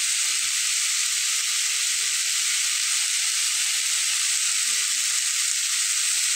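Diced potatoes seasoned with salt and turmeric fry in a pan for Bengali aloo bhaji, giving a steady, close, loud sizzle with constant hiss and no voices.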